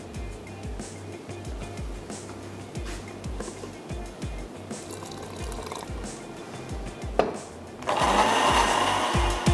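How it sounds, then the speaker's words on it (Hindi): A kitchen blender whirs through a spicy toor daal masala with garlic and added water, a buzzing motor in short pulses before a louder continuous blend near the end. "चलें कुछ और भी इसको ब्लेंड कर लेंगे।"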